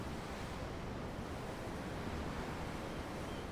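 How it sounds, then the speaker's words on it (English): Ocean surf in the video game Tales of Arise, a steady broadband wash of waves and wind rolling continuously without breaks, fairly loud and alone with no voices. "I'm looking at the ocean."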